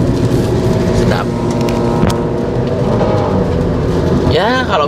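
Rain drumming on the windshield of a Honda Brio fitted with full sound-deadening, heard from inside the cabin as a steady patter with a few sharper knocks and a brief whooshing sweep near the end.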